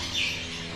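Caged quail at a bird farm let out a single brief high chirp amid a busy, hissy background, short and moderately close.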